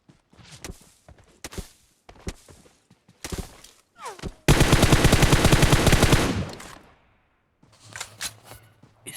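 Gunfire in the mobile battle royale game PUBG Mobile, fired from a crouch: scattered single shots and short bursts, then a loud sustained automatic burst of about two seconds, followed by a few more distant shots.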